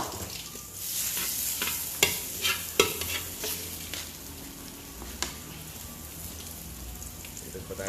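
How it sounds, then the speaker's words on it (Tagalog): Garlic fries and sizzles in hot oil while a utensil stirs and scrapes it around the pan, with a few sharp knocks against the metal over a steady close crackle. "Bawang muna tayo. Medyo tostay natin konti."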